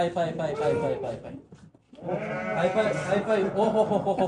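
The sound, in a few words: sheep and lambs bleating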